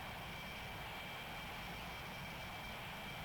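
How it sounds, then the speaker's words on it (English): A jet aircraft in Strike Fighters rolls down the runway with its nose held up for aerodynamic braking, a faint, steady engine whine and rumble with no pauses. "holding the nose up, aerodynamic braking down towards the end of the runway"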